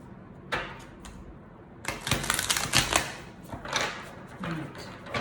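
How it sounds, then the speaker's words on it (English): A tarot deck is shuffled by hand, with a quick riffle of cards, then a longer run of rapid clattering card flicks and taps close by. "Let's try shuffling it like this."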